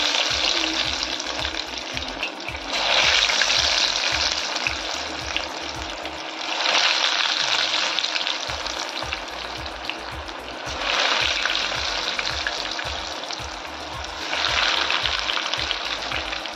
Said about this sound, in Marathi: बघा आपले तेल छान तापले। तर चला आपण केलेले रोल त्यात टाकूया, अलगद असे सोडायचे आहे।